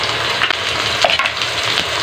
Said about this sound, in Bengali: ভালো করে মশলাটা কষে নেব।